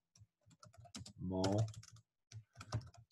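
Fingers type a name on a computer keyboard while filling in a document in Adobe Reader, giving scattered light clicks in short bursts, with a brief voiced sound in the middle.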